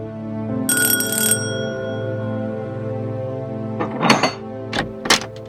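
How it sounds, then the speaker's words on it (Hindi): A bright electronic chime rings out near the start, followed by a few sharp knocks and thumps, with a steady low hum throughout. "एक मिनट रुको, घंटी बजी है, देखें।"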